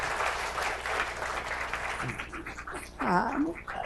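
Audience applause at a prize lecture and award ceremony, a steady wash of clapping from a crowd in a hall that thins out toward the end while a voice speaks over it.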